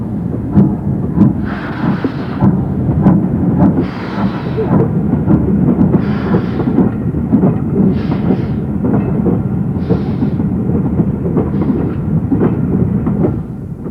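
Stanier Black 5 steam locomotive hauling a failed DMU train, a heavy continuous rumble of rolling stock with rhythmic bursts of chuffing exhaust roughly every two seconds, fairly loud throughout.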